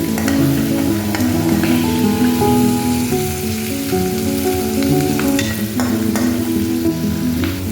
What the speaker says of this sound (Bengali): পেঁয়াজগুলা ভাজা ভাজা হয়ে গেছে